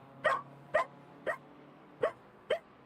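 A puppy gives five short, evenly spaced yips or barks, quiet and fairly close, over a faint steady background hum.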